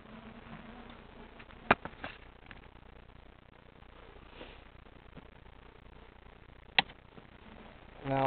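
Buckfast honey bees in an opened hive during a bee yard inspection give off a faint, steady hum, with a couple of sharp clicks of handling.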